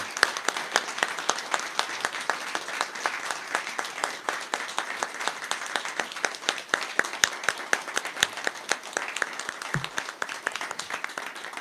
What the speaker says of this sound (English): could you all please join me in a round of applause for Tom?